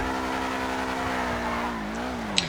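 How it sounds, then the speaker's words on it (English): A Benefactor SM722 sports car in GTA 5 launches with wheel spin, its engine holding a high, strained, steady whine that dips briefly before a short sharp tick at the end, loud and alone. "Immediately, we get a lot of wheel spin, but once that's over, we shoot ahead."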